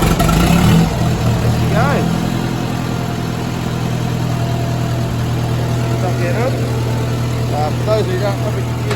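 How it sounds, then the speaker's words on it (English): Old David Brown tractor engine running with a steady low idle throughout, loud and close, with people talking over it. "Gonna start the old David Brown up."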